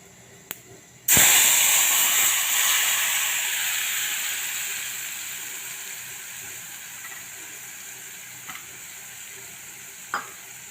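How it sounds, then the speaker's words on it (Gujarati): A sudden loud sizzle bursts in as hot oil is poured into garlic chutney, then a long hiss slowly fades, with a couple of faint clinks near the end. "તો હવે આપણું તેલ થઈ ગયું તેમાં નાખી દઈશું."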